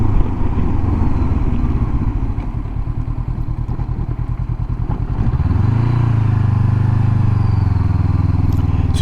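A Honda CB500X motorcycle rides along a narrow country lane, the parallel-twin engine loud and close with a throbbing, pulsing note that steadies into a smooth, even drone as the rider opens up the throttle.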